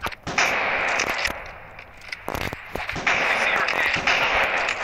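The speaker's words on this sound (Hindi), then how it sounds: "यार बर्गर वाला तो गोली चला रहा है यार" Gunshots from a burger vendor in the Rope Hero Vice Town video game pop out in sharp, scattered bursts, loud and close, alongside a steady noisy game backdrop.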